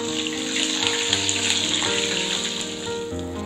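Three green chillies frying in hot oil with cumin and curry leaves, a loud continuous sizzle with steady crackling throughout and no talk.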